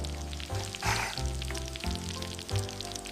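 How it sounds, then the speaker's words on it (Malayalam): Fish frying in a pan at home gives a soft, steady sizzle mixed with background music with a low, pulsing beat. "അവർ വീട്ടിലെത്തി മീൻ വറുത്തതും കഞ്ഞിയും ചമ്മന്തിയും ഉണ്ടാക്കി."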